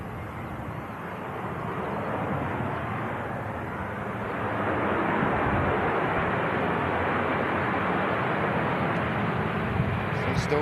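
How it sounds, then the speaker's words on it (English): An EasyJet airliner touches down at Manchester Airport, a broad steady roar of engine and rollout noise that grows louder midway and holds, with faint voices underneath. "EasyJet just touching down"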